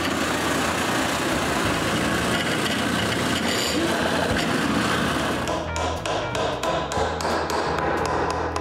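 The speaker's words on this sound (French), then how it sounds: "Ensuite, je chanfreine les trous des 2 côtés." A drill chamfers both sides of freshly drilled screw holes in a simple shop-made rip fence guide for a saw, giving steady, dense grinding and rasping close by that eases into choppier, stuttering bursts near the end.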